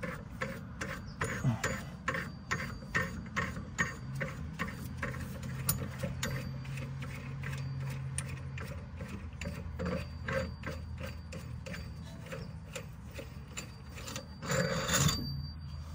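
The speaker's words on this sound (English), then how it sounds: "now I'll take this nut off" A ratchet wrench removes a nut from the front body mount of a 2004 Range Rover HSE L322 with a 4.4 L BMW engine, giving a long run of rapid, close mechanical clicks with gritty scraping underneath.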